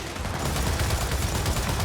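A mounted turret fires in Gears of War 4 as a rapid, continuous stream of heavy gunshots, loud and close, hammering without pause for the whole stretch.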